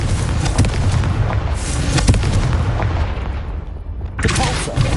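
Confringo blasting-spell explosions in Hogwarts Legacy boom loudly and close, with heavy rumbling bursts that overlap, ease briefly, then return with a fresh crackling blast.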